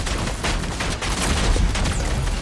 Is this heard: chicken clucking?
no